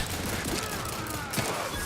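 Gunfire in The Outer Worlds 2, a quick scatter of sharp shots and impacts over a busy game background lasting under two seconds.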